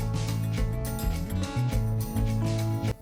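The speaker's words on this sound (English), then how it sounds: "go over to the sewing machine to stitch from one end of the palazzo to the other" A home sewing machine runs a seam down the length of a wide-leg palazzo jumpsuit: a steady, close motor whir that shifts in speed several times with no talking.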